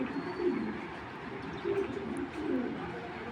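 Silver pigeons kept for sale coo softly in several low, burbling phrases, nearby and fairly quiet against a steady background murmur.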